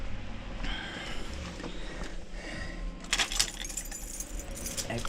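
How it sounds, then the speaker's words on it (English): A bunch of keys jangles quietly nearby indoors, first in a few soft metallic shakes and then in a brighter cluster of clinks, over low room noise. "Better grab my keys just to be on the safe side."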